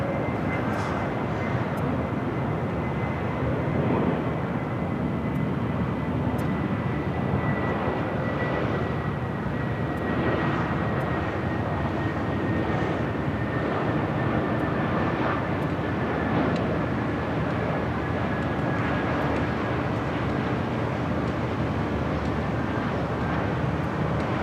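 A Spirit Airlines Airbus A320neo at LAX gives off a steady, moderately distant jet roar with a faint whine, continuous for the whole stretch, with no voices over it.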